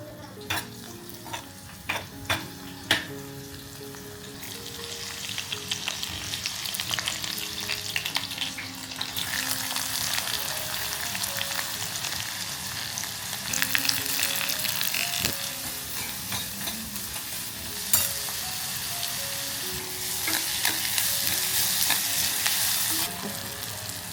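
Continuous frying sizzle of tomato tempering in a pan, with occasional clinks and scrapes of stirring throughout.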